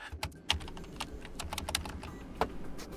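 Irregular typing on a computer keyboard, close up, with scattered clacks of varying loudness over a low background hum.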